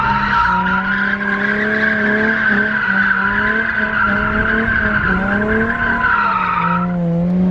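A car drifting with long, continuous tire squeal over a steady engine drone that rises and falls slightly, loud and close throughout, no voices.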